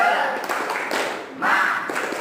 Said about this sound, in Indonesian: kita tepuk semangat lagi ya